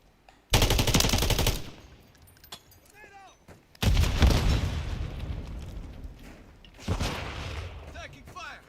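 Bursts of automatic gunfire in the shooter game Call of Duty Modern Warfare III, loud rapid volleys separated by quieter gaps, with a voice briefly speaking between them.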